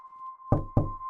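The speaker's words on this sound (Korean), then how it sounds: "제 방문을 똑똑 두드렸습니다" Two firm knocks on a bedroom door, close and evenly spaced, over a steady faint tone.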